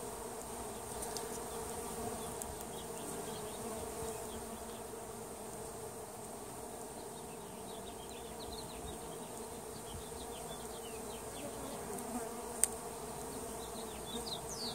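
A steady, dense buzzing of many honeybees around an open hive fills the air, constant and close, with no talking.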